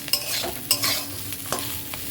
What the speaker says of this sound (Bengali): এখন আলু ভাজা করছি